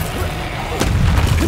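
A booming Bombarda spell blast in Hogwarts Legacy, one muffled low thump landing partway through over a steady game background.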